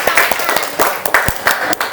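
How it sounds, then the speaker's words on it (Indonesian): Scattered claps from a small group of schoolchildren in a classroom, a few uneven hand strikes under low chatter and movement, close and fairly loud. "Tepuk tangan"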